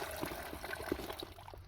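Spring water flows straight out of its source in the Utah high country, a soft, continuous trickle and gurgle that stays faint and steady throughout, with no voices.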